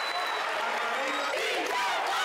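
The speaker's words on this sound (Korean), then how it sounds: "관중들의 열광 지수는 경기장 천장까지 다다르고 있다." Indoor stadium crowd roaring during a sports match, a dense sustained wall of cheering and shouting under a narrator's voice.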